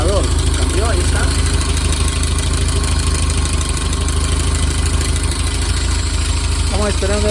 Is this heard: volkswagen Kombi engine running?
yes